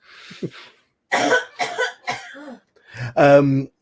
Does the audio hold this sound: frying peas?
no